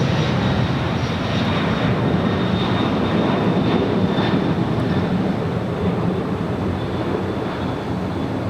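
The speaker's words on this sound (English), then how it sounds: "we do have the Coletta Air Queen in the face mask livery coming in from Anchorage" Kalitta Air cargo jet arriving at LAX from Anchorage, a steady broad roar of jet engines with a faint high whine, loud and continuous at moderate distance, no voices.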